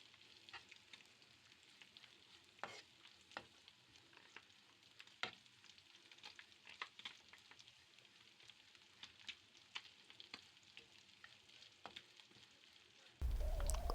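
Sardine masala with coriander, pepper and salt stirred in a pan for sardine roast, a steady faint sizzle broken by scattered scraping clicks of the spoon, with a louder burst of frying noise in the final second.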